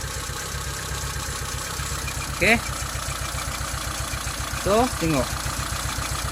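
Proton Wira engine idling with one spark plug lead pulled and misfiring, giving a steady, rapid, uneven low chugging pulse close by, with someone speaking briefly over it several times.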